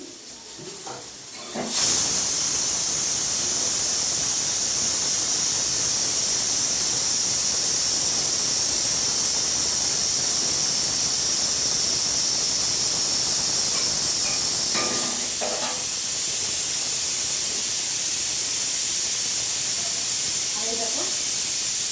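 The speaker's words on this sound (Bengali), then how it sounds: "আমি উচ্ছে ভাজাটা বসিয়ে দিয়েছি" Bitter gourd and potato frying in a pan gives a steady, loud hiss that starts abruptly after a quiet opening and holds without a break, with a few faint clinks near the end.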